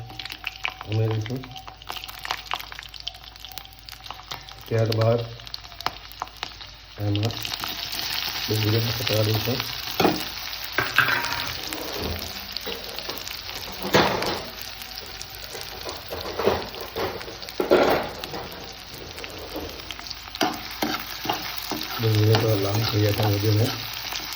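Cumin seeds and dried garlic crackle in hot oil already spiced with cloves, pepper, green and dried chillies and cinnamon for a Maharashtrian misal tempering; a steady close sizzle runs throughout, with stirring clatter and a voice speaking in short stretches.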